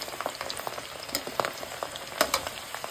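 Steady crackling sizzle of ginger and garlic frying in hot oil, with small pops and occasional stirring scrapes from a spatula, close and fairly quiet.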